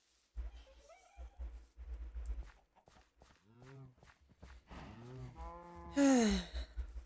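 Cows moo in the Minecraft video game, a few short lowing calls rising over quick blocky footsteps, with a louder moo near the end and a voice speaking faintly at times.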